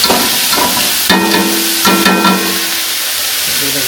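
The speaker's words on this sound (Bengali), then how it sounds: "নুডলসের জন্য সবজিটা ভাজা হচ্ছে" Vegetables for noodles frying in a pan, loud close crackle with scraping stirs and clinks, a faint voice briefly in the background.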